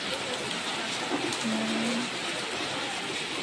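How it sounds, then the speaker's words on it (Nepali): Heavy rain pours down during a rest stop on a trip, producing a steady, dense hiss that stays level throughout, with a faint brief tone in the middle. "पानी चाहिँ यस्तो डेन्जर परिरहेछ"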